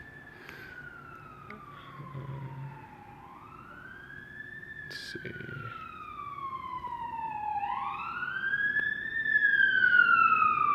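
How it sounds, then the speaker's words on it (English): An ambulance siren wails in long rising and falling sweeps, growing louder and closer over time, with a brief voice speaking early on. "There's an ambulance"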